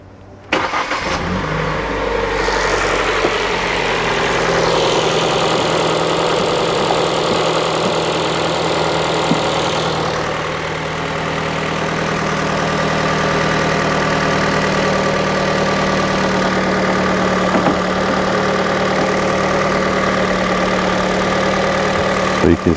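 Car engine cranks and catches with a sharp burst, then settles into a steady, close, loud idle that hums on for about twenty seconds with a faint voice now and then.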